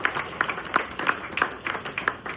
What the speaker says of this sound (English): So let's give him another round of applause.